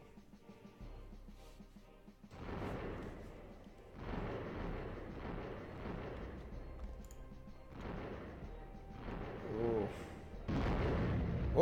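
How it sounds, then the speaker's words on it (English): Bombs striking at once in a space shooter game, heavy booming bursts arriving in several loud clusters over a steady rumbling backdrop, with a brief exclaimed voice near the start. "All those bombs hit it at the same time."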